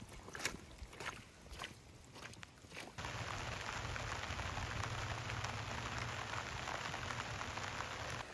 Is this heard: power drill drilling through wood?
no